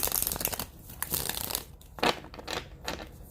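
Cards riffle and flutter in quick bursts, a crisp papery rattle close by with short pauses between shuffles.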